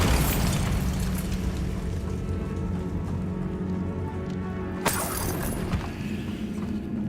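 A blasting spell, Bombarda, in the video game Hogwarts Legacy bursts once with a sharp crack over a steady roaring ambience, followed by a smaller impact.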